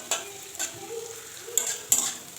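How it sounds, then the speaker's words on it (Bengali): Raisins stirred with beans and carrots frying in a pan. A spatula scrapes through in about four distinct strokes over a steady, close sizzle. "কিশমিশটা একটু নাড়াচাড়া করে নেব বিনস গাজরের সঙ্গে"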